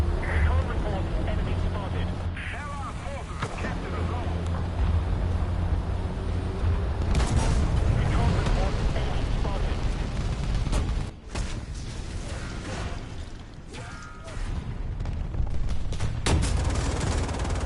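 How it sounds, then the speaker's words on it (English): Heavy booming blasts and rolling gunfire from an airstrike in a war video game, loud and sustained, with radio-style game announcements talking over the barrage. "Airstrike incoming."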